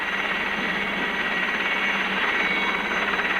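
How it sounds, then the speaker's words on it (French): A helicopter hovers close during a 1984 mountain rescue, giving a loud, steady, unbroken rotor and turbine roar that fills the whole stretch with no talk over it. "Fais gaffe, t'as l'autre hélico dessus."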